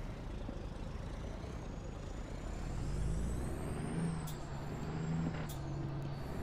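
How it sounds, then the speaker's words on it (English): A truck engine hums steadily with a rising and falling whine as it is double-clutched through low gears, close and continuous, with brief clicks and a hiss near the end. "Trying to double clutch in the low gears doesn't really work for me too well."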